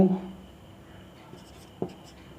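Chalk or marker writing briefly on a classroom board during a geometry lesson, a short scratchy stroke at the start and another quick tap-like stroke later, quiet room, no speech.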